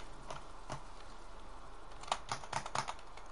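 Quiet, scattered keystrokes and clicks on a computer keyboard during a Fortnite game, tapping irregularly with a small burst of faster presses near the end.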